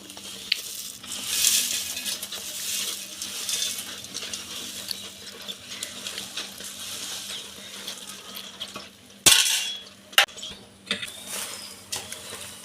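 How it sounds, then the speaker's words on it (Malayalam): Flattened rice is stirred into melted jaggery and coconut in a pan, with soft scraping and shuffling and a couple of sharp clinks of a spoon against metal near the end, close and without speech. "എന്നിട്ട് നല്ലപോലെ ഇളക്കി മിക്സ് ചെയ്തെടുക്കുക."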